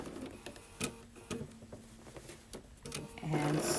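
A sewing machine stitches English paper pieced daisy chain quilt pieces at a quarter-inch seam, giving short bursts of close mechanical ticking and clicks with small pauses between, building to a steadier run near the end.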